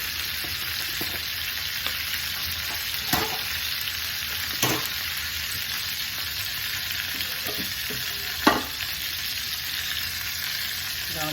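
Olive oil heats in a pan before vegetables go in, producing a continuous, even hiss of sizzling with a few faint clicks and taps over it, close and unbroken, with no voices.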